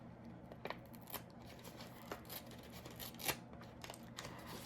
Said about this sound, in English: So I'm going to tear this.